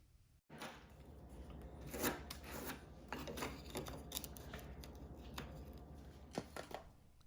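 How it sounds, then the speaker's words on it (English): Sanding down the edges of a ceramic countertop tile by hand, a steady scraping rub with repeated short strokes at close range, alone with no talking. "I did have to sand down a couple of the edges of the tile"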